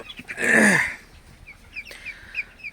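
Twenty-day-old broiler chickens on a farm let out one loud, drawn-out squawking cluck up close, followed by a scatter of fainter chirps and peeps.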